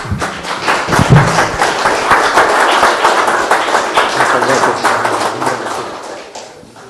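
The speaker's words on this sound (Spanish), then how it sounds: "Un aplauso, por favor." Audience at an industrial energy-billing conference applauding as a speaker receives a certificate, a steady burst of clapping that fades out near the end, with voices mixed in.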